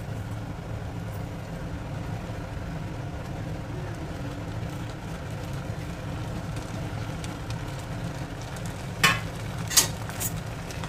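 Schezwan chicken fried rice is stirred and mixed in a pan, giving a steady low sizzle and scraping that continues throughout, with a couple of brief metallic clinks near the end.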